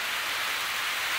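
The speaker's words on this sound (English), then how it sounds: "Talk about a sudden downpour." A sudden heavy rain downpour in the video game Muv-Luv Unlimited roars as a dense, steady hiss of falling water, loud and unbroken, with no talk over it.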